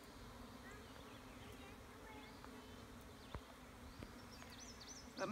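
Honeybees settling into a newly started beehive give a soft, steady buzz, faint and continuous, with a few individual bees droning past close by.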